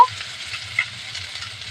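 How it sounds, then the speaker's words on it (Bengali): Chopped soybean chunks frying in hot oil, a steady close sizzle with soft stirring scrapes and a brief clink near the start, continuous for under two seconds with no voices. "তেলটা গরম হয়ে গেছে এই তেলের মধ্যে এই আগে থেকে সোয়াবিন যেগুলো কুচিয়ে রেখেছি এবার এগুলো দিয়ে দেবো"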